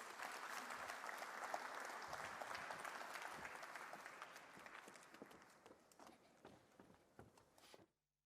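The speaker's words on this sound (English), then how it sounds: "I want you to give them a warm round of applause as they make to the stage" Audience applause at the official opening ceremony of the Intra-African Trade Fair 2021, a steady wash of many hands clapping that carries on for several seconds, gradually thins out and ends abruptly.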